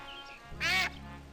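A single nasal duck quack from the adventure game Escape from Monkey Island sounds once, short and clear, over a quiet background.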